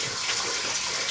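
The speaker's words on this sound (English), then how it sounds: "so when you're wetting your face the first time, make it warm, hot water" Warm tap water runs steadily into a sink for wetting the face before a morning shave with an Edwin Jagger DE8 safety razor, a close, constant broadband hiss with no voices.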